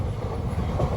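An Indian passenger train hauled by a WAG-9 locomotive rumbles along at cruising speed, a dense, continuous low roar of wheels on rails heard from inside the carriage.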